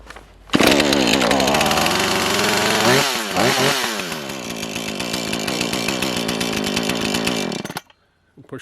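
A cold chainsaw engine catches after a pull and roars into loud, continuous running, its pitch sweeping up and down as the throttle is worked, before cutting off abruptly near the end.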